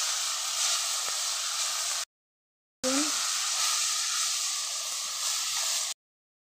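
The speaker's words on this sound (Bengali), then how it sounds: "আলু ভাজিগুলো হয়ে গেছে।" Potatoes fry with spice powder in a pan, giving a bright steady sizzle that cuts out completely for under a second midway, then resumes just as strongly, with a brief clink as it restarts.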